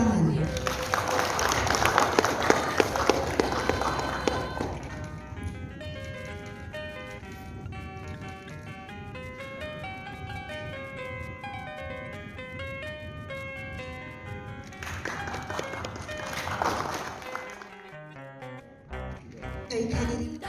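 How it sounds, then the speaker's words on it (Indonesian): Audience applause at a university signing ceremony for a cooperation agreement between Universitas Pasundan and the Komisi Kejaksaan, a burst of clapping over steady background music that fades, then swells again briefly later. "Hadirin mohon beri tepuk tangan."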